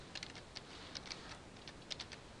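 Soft, sparse keystrokes tap on a computer keyboard while an enrollment key is entered, faint and irregular clicks over quiet room noise.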